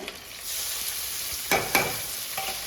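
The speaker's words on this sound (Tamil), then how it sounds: "நம்ம கேரட்டு முட்டை போட்டு பீன்ஸ் மூணையும் இதில் போட்டலாம் ஒன்று மாற்றி ஒன்று" Carrot, egg and beans stir-fried in hot oil for chicken fried rice give a continuous close sizzle, broken by a few sharp scraping clanks of a spatula against the pan.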